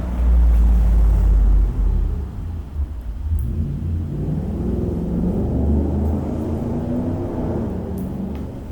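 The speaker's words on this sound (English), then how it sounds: "All those engines going by" Heavy engines rumble loudly and continuously, a low droning roar that swells at the start and then holds steady as vehicles pass.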